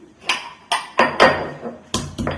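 Unpeeled garlic cloves being crushed in a home kitchen, five or six sharp, close pounding thuds at an uneven pace, each with a short rattling knock.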